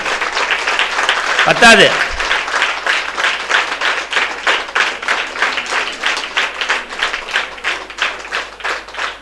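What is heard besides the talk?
audience applause for a temple sculptor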